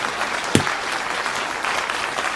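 Audience applause after a speech on national security: a steady wash of many hands clapping from start to finish, with one sharper close clap near the beginning, moderately loud and with no talking.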